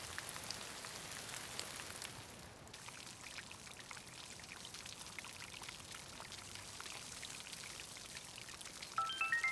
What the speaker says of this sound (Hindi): मैं तो पौधे में पानी डाल रही हूँ।